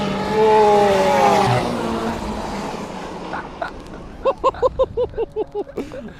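A Caterham and a Lamborghini supercar drag racing on a wet test track, an engine wail rising and fading into rapid, punchy revving bursts, with people talking over it.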